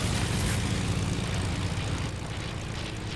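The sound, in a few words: video game airplane engine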